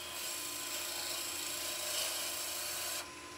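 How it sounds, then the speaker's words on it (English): Wood turned on a lathe while a bowl gouge makes a skew cut, a steady high whirring hiss of the spinning workpiece and cutting edge that drops off abruptly near the end, close and with no talking. "We're just going to do another little skew cut with the bowl gouge"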